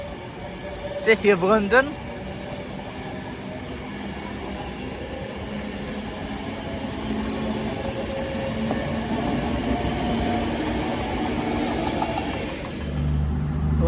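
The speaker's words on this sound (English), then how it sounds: "it's 39138 on an Avanti West Coast on divert to London Euston from Glasgow Central" An Avanti West Coast train, 39138, diverted from Glasgow Central to London Euston, passes through Stoke-on-Trent station with a steady, close rolling rumble. A brief voice is heard near the start.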